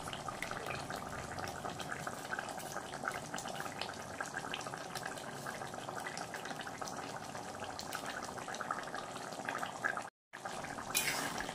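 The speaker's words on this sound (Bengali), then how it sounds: "জলটা একটু করে দিই" Water pours steadily into a pan of chicken curry on the stove, a continuous running, splashing flow that carries on for several seconds, breaks off briefly near the end, then resumes.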